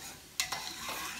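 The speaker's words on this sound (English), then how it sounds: "The sauce boiling, you wanna focus on the sauce." Spaghetti carbonara sauce is stirred in a pan as it begins to boil, giving soft sizzling and bubbling with a couple of quick utensil scrapes, quiet and brief.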